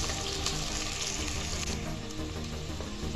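Chopped onion sautéing in a pan for vegetable pulao, a steady close sizzle and frying hiss continuing without a break.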